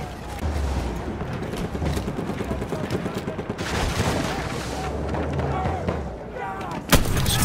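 Tank cannon fire and gunfire in the World War I shooter Battlefield 1, heavy booms and rumbling blasts layered through a continuous battle din, with a sharp loud hit near the end and voices talking over it.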